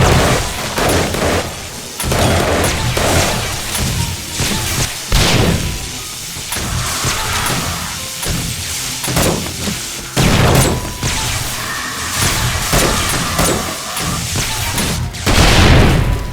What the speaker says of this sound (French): c'est des grenades